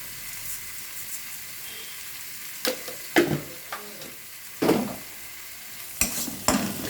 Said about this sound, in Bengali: এবারে ভালোভাবে আমি এটা কষিয়ে নেব।